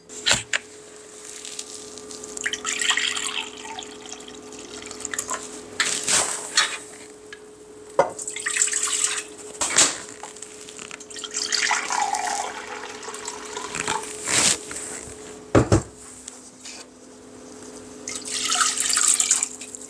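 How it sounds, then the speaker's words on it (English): Water and white vinegar poured into a cooking pot, a splashing, trickling pour that comes in several separate bursts with brief pauses between, close and moderately loud, with no talking. "I'm gonna put 1 cup of white vinegar and 1 cup of water into the pot and get it simmering"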